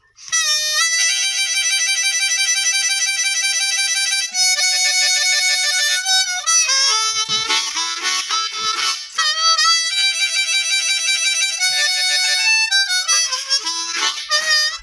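Blues harp (harmonica) playing with rapid trills, alternating quickly between neighboring notes in bright, sustained bursts, loud and close with brief pauses between phrases.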